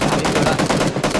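Gunfire in the battle royale game PlayerUnknown's Battlegrounds, loud rapid automatic shots cracking close in a continuous burst with no gaps.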